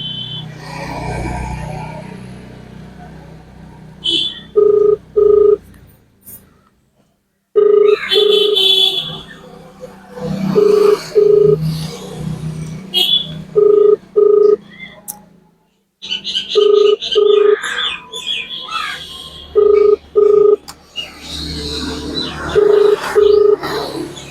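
A phone ringback tone repeats in evenly spaced double pulses, stopping and starting again, with brief muffled sounds at the start and no answer.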